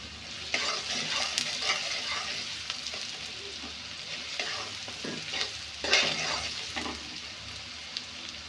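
Whole spices (bay leaf, cinnamon, cardamom, cloves) sizzling in hot oil for pulao, a soft continuous frying hiss broken by stirring scrapes and clatter, fairly quiet and close.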